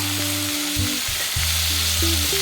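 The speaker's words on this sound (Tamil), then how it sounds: "இதையும் நல்லா வதக்கி விட்டுருவோம்" Mint and coriander leaves being sautéed in a pan for a South Indian mutter paneer masala gravy, giving a steady close sizzle with small stirring bumps and no voices.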